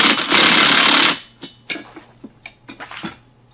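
A 17mm socket tightens a nut and washer onto a bolt on a Gorilla Carts hand cart pull handle: after a second of loud continuous whirring, several short separate metallic clicks and ratchet bursts follow close by.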